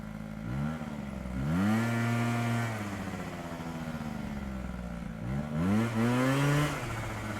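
A Yamaha Jog 70cc two-stroke scooter engine, tuned to its fuel limit, blips up in short revs, then settles back to a steady, close idle. The note rises and falls a few times and has no talk over it.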